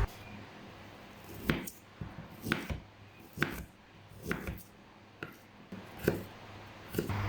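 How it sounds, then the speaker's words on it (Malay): A knife thinly slices fresh ginger on a cutting board, making about a dozen crisp close taps at a steady, unhurried rhythm with no talking. "Halia ni mula-mula kita hiris nipis."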